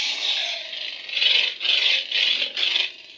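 Old Republic-style boot-up effect from a Neopixel lightsaber sound font, a bright electronic crackling rattle in four rising surges over a steady hiss, close and alone.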